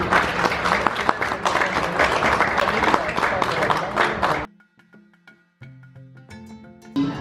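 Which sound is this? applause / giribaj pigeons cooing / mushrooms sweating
applause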